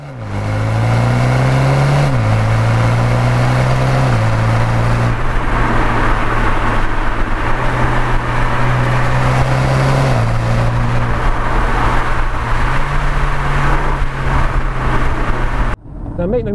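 Heard from outside, a BMW M135i or new Audi S3 hatchback runs close by with a loud, steady engine drone and exhaust note, pitch shifting in steps as it revs, continuous until a sudden drop at the end.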